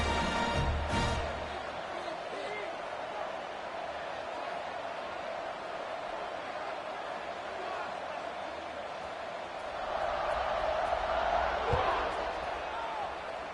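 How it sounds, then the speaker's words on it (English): Football stadium crowd buzzing after a score, a broad murmuring roar that swells louder near the end, with a commentator talking over it throughout. "this crowd is buzzing after that last score."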